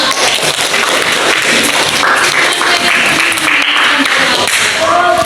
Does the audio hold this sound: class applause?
yes